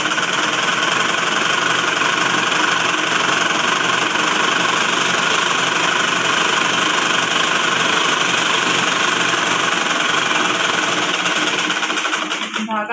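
Sewing machine stitching fabric on a long stitch setting, a steady, loud, continuous whirring hum that runs without a break and cuts off just before the end.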